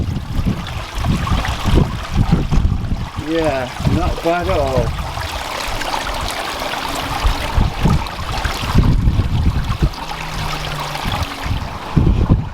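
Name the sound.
pond waterfall flowing from pump and hose pipe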